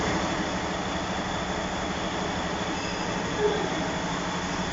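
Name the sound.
truck engine running in workshop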